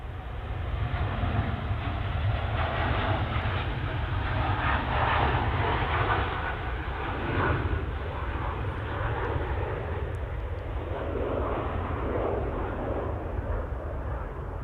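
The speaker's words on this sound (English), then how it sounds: "we've got the TUI Dreamliner off to Bridgetown" A TUI Boeing 787-9 Dreamliner departs Manchester Airport, its jet engines producing a steady, broad roar that holds loud and unbroken throughout, with no voices.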